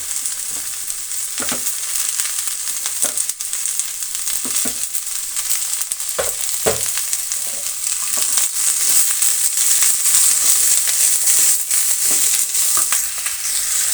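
Chopped ivy gourd with onion stir-fried in a pan, a steady bright sizzle throughout with scattered scrapes and knocks of the spatula, growing slightly louder toward the end.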